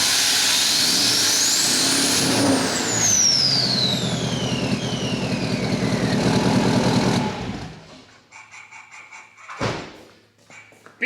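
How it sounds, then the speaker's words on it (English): A tuned Chevrolet L5P Duramax diesel pickup truck with a 5-inch exhaust roars loudly and throatily, pitch sweeping up and falling away, then cuts off, leaving quiet with a single clunk. "5-inch exhaust that runs back, and this thing sounds amazing"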